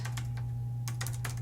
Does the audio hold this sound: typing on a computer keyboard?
yes